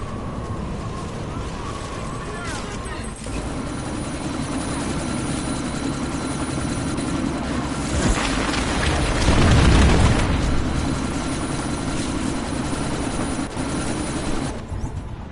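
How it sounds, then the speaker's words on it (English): Helicopter flying in a video game, a loud, steady rotor roar that swells and peaks midway with a deep rumbling burst, then settles back to a constant drone. "you need to disable that chopper"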